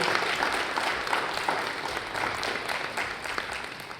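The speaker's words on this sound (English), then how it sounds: "Could we have a bigger round of applause for our" A room applauds a business panel on AI at the close of a discussion, with sustained, even clapping from many hands at a consistent level, slowly tapering toward the end.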